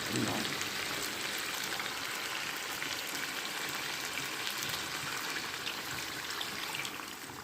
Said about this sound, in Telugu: చేప ఎప్పుడు కూడా ఇలా ఆయిల్లో మగ్గాలి వేగినట్టుగా చక్కగా నూనెలో మగ్గితే